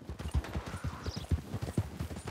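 Horse hooves clip-clopping in Red Dead Redemption 2, a steady run of close, even hoofbeats with a faint voice murmuring underneath.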